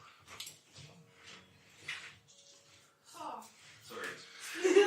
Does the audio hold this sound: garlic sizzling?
no